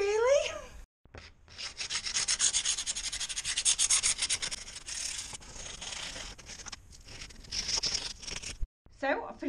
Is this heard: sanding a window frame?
yes